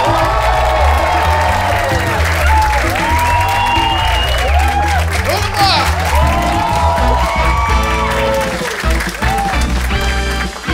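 A comedy club audience greets a stand-up comedian with loud, sustained applause and cheering, whoops and shouts rising over steady clapping, with music playing underneath throughout.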